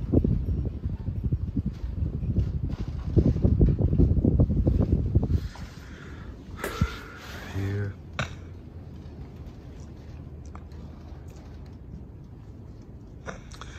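A Litex Signet Deluxe ceiling fan pushes air from its spinning blades, a loud, close whooshing rush for about five seconds that then drops to a softer, steady airy hum.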